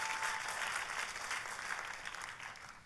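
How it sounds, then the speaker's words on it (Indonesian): Congregation applause at a church service honoring Jesus, a steady wash of clapping from many hands that stays fairly even and fades slightly toward the end, with no voices. "boleh saya dengar tepuk tangan yang paling meriah buat Yesus Tuhan kita"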